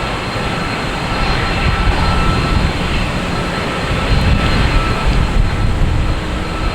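A Boeing 767-300 jet at Boston Logan Airport, bound for Edinburgh, roars steadily and loudly throughout, a broad sustained engine rumble with no talk.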